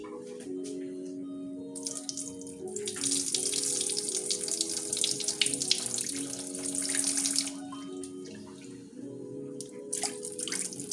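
Tap water pours steadily into a cooking pot for several seconds during meal prep for lamb stew and fish curry, a bright continuous rush over a faint background hum.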